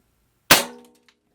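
A single sharp crack from a Hatsan Vectis lever-action PCP air rifle firing a 14-grain Sniper Light pellet, loud and close, with a brief ringing decay into silence.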